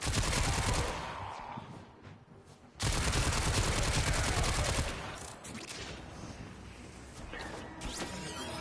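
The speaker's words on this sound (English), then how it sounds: "the fire rate on this weapon is actually pretty slow" A weapon in the shooter game Warframe fires in loud, dense bursts of rapid shots, with one burst at the start and a longer one in the middle, each followed by a quieter stretch of background game noise.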